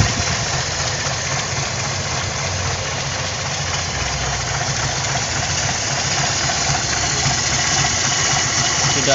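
A classic car's engine idles steadily and close by, a low rumbling hum with a faint rhythmic knock, no voices over it.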